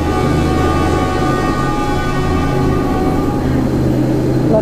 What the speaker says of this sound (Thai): รถไฟวิ่งผ่าน